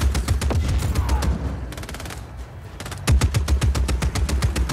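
Rapid automatic gunfire from an overpowered gun in a video game, with long sustained bursts of fast regular shots, a brief lull in the middle, then another close, loud burst.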